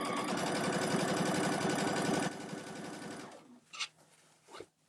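A sewing machine stitches a large bag, running fast and steadily at close range for about two seconds, then slowing to a quieter hum before stopping, with a few soft handling knocks after.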